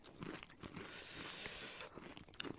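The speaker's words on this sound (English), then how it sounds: "People are probably totally sick of hearing us chew." Crunchy snacks are bitten and chewed close to the mic, a series of crisp crunches and mouth sounds with brief pauses between bites.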